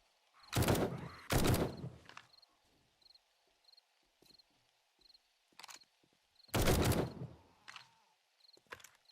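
Gunfire in the survival video game 7 Days to Die: two loud bursts early, then another a few seconds later, with quieter single shots and clicks between them over a chirping insect-like ambience.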